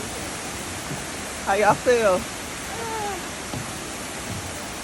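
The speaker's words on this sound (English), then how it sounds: "Enjoy the waterfall." Steady broadband rush of a waterfall on a June hike in Ohio, a constant hiss filling the scene, with brief voices speaking over it partway through.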